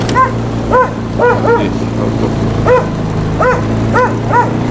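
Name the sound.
dog barking in the forest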